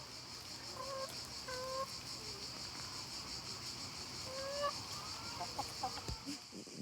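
Laying hens clucking on a lavender farm, several short tonal calls scattered across the clip over a steady outdoor background of insect-like buzzing, moderately distant and fairly faint.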